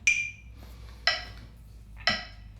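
A metronome slowed to 60 beats per minute gives three evenly spaced sharp, bright clicks about a second apart, close and alone against faint background hiss.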